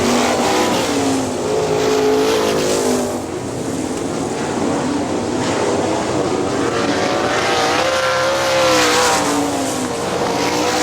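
410 sprint cars roar past continuously at speed on the half-mile Hartford Speedway Park oval in Michigan, engines whining and rising and falling in pitch as they circle, loud and unbroken with no voices.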